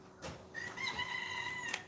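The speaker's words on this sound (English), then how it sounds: "Here's the roosters." A single rooster crows once, loud and fairly close, with a rising, held call over faint background noise.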